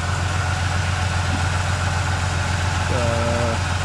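A small V6 engine in a 2006 Chevy 1500 pickup idles with a steady low rumble and a constant drone, close by and unchanging throughout.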